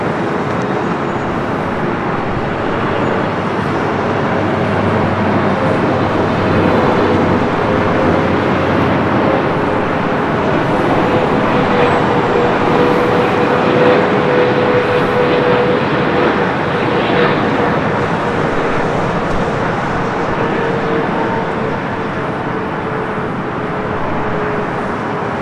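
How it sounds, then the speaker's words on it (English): Singapore Airlines Boeing 777-300ER arriving at LAX from Tokyo Narita, a long, moderately loud jet roar swelling through the middle and easing off slightly, with a steady low drone underneath. "Singapore flight 1 to 2 coming in from Tokyo Narita on that 777 at 300 ER."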